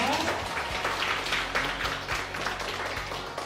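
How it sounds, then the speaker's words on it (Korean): Applause from a class audience at a university lifelong-education centre, welcoming a horticultural therapy lecturer; steady, moderately loud clapping from a roomful of people, fairly close, with some voices mixed in throughout. "좋은 강의 부탁드리면서 박수 한번 드리겠습니다"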